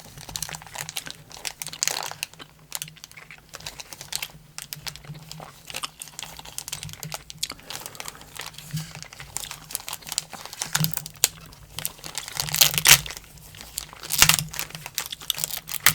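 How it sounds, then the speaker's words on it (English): Close, crisp crinkling and tearing of thin 1991-92 NBA Hoops basketball card pack wrappers, with bursts of rustle and rip scattered across the whole stretch and the loudest tears near the end. "This type of wrapper is never really a clean rip."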